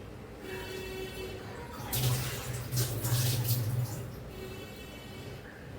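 Water pours from a container onto sugar in a pan to start a syrup, a splashing, gurgling rush of about two seconds over a low kitchen hum.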